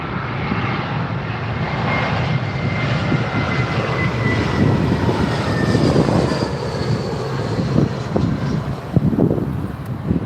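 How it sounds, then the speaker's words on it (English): A British Airways Airbus A320 lands at London Heathrow on runway 27R, its loud, broad jet roar swelling and holding steady for about ten seconds with no speech over it. "Another British Airways just landing there, Airbus A320."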